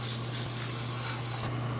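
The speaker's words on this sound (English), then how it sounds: "I'm going to try and run this through the airbrush, see if that works." An airbrush sprays sealer primer onto a wooden sign, giving a steady close hiss under a low hum, then cutting off abruptly near the end, with no talk.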